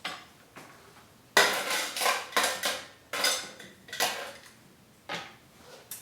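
Ice cubes dropped into a glass of grapefruit cocktail with sparkling water, a series of bright clinking knocks, about six distinct hits in an irregular rhythm, close and clear with no talk.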